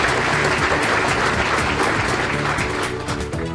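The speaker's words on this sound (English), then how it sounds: "Let's give Ishwar a big round of applause," Loud, sustained applause from an audience at a 40th birthday celebration for Ishwar, with dense steady clapping that carries on through the whole stretch without voices.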